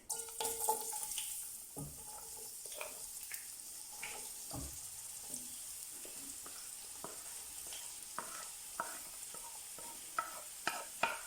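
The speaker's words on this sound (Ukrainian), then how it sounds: "Жаримо на середньому вогні." Onion sizzles softly in vegetable oil in a hot pan over medium heat, with scattered stirring scrapes and light clinks from a utensil, close and fairly quiet throughout.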